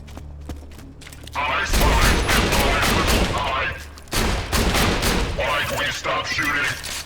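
Rapid automatic gunfire from the video game Borderlands 2 comes in two long, dense bursts, loud and continuous with brief pauses, and a voice may be faintly present beneath the shooting.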